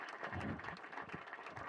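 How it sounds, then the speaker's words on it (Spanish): A crowd applauds steadily for under two seconds, a dense patter of clapping with some low voices mixed in. "le pido un aplauso para nuestra diputada provincial, Carmen Verón"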